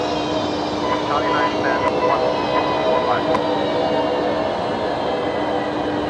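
A Rex Saab turboprop arriving at Brisbane Airport at night gives a steady, distant engine roar that holds evenly throughout, broad and moderately faint.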